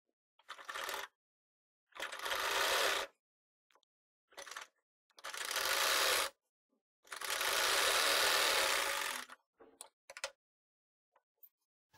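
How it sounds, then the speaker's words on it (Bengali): Electric sewing machine stitching fabric for a round umbrella frock, running in several separate bursts of steady whirring stitching of one to two seconds each, with short pauses and small clicks between, close and alone. "একটা পাটের সাথে আমি এটা আগে একটা ফলস সেলাই দিয়ে লাগিয়ে নেব"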